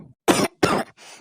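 A man coughs hard twice in quick succession, each a loud, close, rough burst, followed by a softer trailing cough or throat sound.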